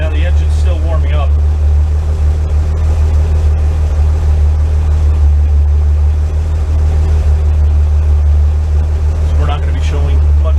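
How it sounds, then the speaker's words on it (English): A car engine idles steadily while still warming up, a constant loud low drone running throughout, with brief voices talking over it near the start and end. "Now the engine's still warming up."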